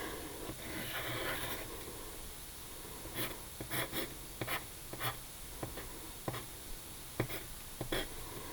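A pencil or marker drawing a picture on paper gives soft scratchy strokes, a longer rub followed by short separate marks in an uneven rhythm, close and quiet with no talking.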